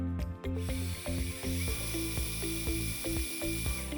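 A drill adapter fitted to a modular handpiece runs at high speed, giving a steady mechanical whir with ratcheting clicks throughout, loud and close with no talk.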